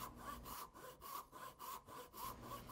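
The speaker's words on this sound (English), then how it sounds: "I'll reposition the work in the vise again with it perpendicular and so that it's following the scribed line along the end, and I'll rip straight down" A hand saw rips down through wood held in a vise to cut a half-lap joint, giving quiet, steady rasping strokes at an even back-and-forth rhythm with no talking.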